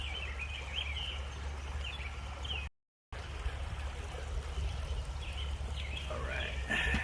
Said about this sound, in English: Juncos and robins all over the place.